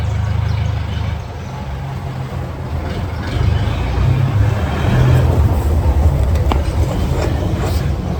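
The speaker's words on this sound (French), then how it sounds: "Ça, c'est du camion." A truck rumbling past on a road in Bahia, Brazil, a loud continuous low roar that swells and holds for several seconds, close by with no talking.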